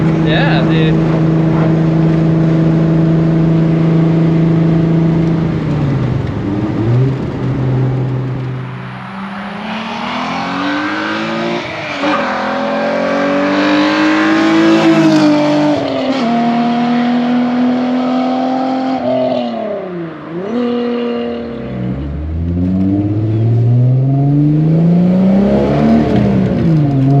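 All-motor VR6 engine in a Volkswagen Corrado on a dyno, loud and close, holding a steady drone before climbing through rising revs with a few dips and lifts, and a voice faintly underneath.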